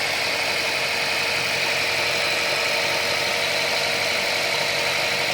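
Mitsubishi Pajero Mini with a 20-valve engine idling steadily in neutral, a smooth, quiet, even hum with no noticeable revving, close by and alone without talk.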